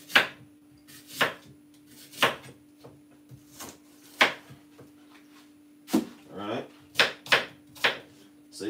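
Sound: knife chopping a green apple

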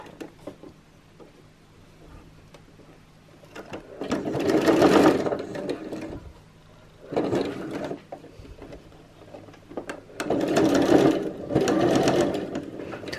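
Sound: sewing machine stitching a Christmas tree skirt

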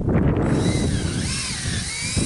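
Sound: power drill boring tap hole in tree

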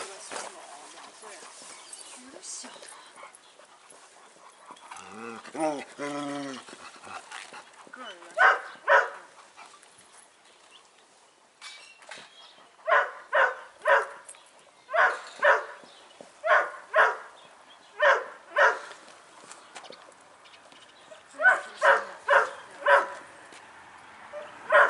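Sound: Kangal dog panting and barking

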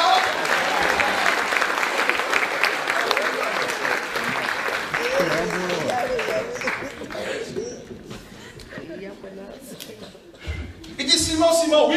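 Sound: congregation applauding the Lord

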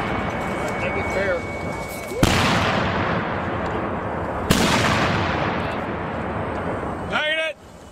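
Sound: artillery gun firing in Afghanistan

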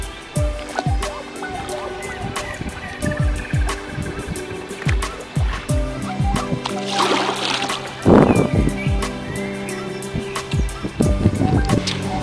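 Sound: paddling a small boat on a river

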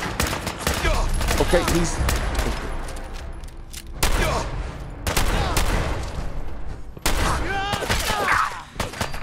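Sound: gunfire from a legendary gunner in video game Fallout 4

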